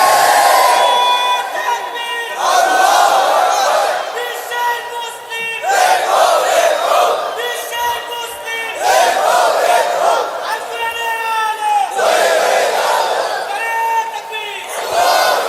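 A large crowd at a Bengali Islamic sermon roars takbir responses in call and response, loud massed voices rising in repeated surges a few seconds apart, with a leader's call between them.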